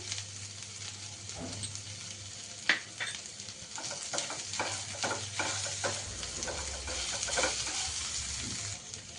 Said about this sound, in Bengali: এবার একটু নেড়ে নিই, আদার কাঁচা গন্ধটা যাতে চলে যায়।